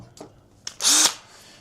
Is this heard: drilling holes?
yes